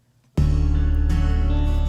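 Bass, acoustic guitars and electric guitars play together in an indie pop arrangement, entering abruptly after a short quiet moment and sustaining as a full, steady, loud mix.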